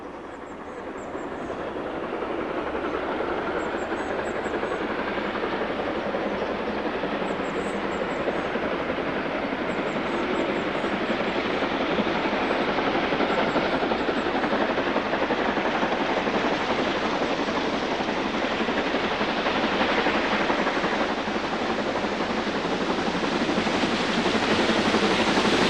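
A Great Western Railway steam locomotive runs on the main line, giving a steady, loud, broadband roar that holds without a break for the whole stretch, with no voices.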